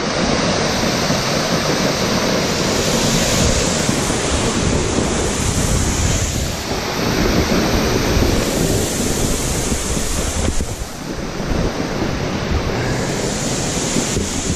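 Steady, roaring rush of Triple Falls on the Buffalo National River, loud and continuous throughout with no voices, a dense broadband wash that holds nearly constant.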